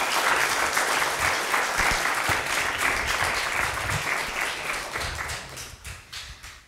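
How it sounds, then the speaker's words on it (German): Enthusiastic late-night show studio audience applause, loud and sustained with crisp individual claps, gradually tapering off toward the end. "Großen Applaus nochmal."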